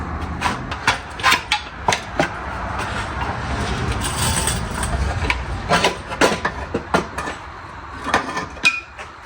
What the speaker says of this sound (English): Have to remove a couple screws.